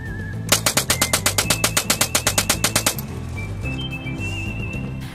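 A homemade DIY minigun rattles off a rapid burst of about twenty sharp, evenly spaced .22 caliber shots lasting roughly two and a half seconds, then stops, leaving a faint background hum.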